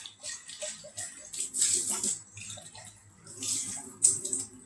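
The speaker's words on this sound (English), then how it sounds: "let me rinse out my measuring cup" Tap water splashes into and rinses a measuring cup at a kitchen sink, a close, hissing trickle with brief surges and pauses, continuing for several seconds.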